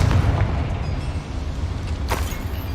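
A Confringo spell explosion in the video game Hogwarts Legacy, a deep rumbling boom that swells and holds low, with a sharp burst partway through, loud and close.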